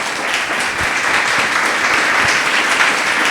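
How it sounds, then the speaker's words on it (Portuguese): Church congregation clapping hands in praise, a dense, steady wash of many hands that holds loud and even from start to finish, with no talk over it. "Louve ao Senhor com suas palmas,"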